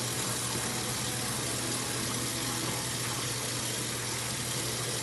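Tap water running steadily while hands are rinsed during a handwashing demonstration, a continuous broadband rush with a low hum beneath and no talking.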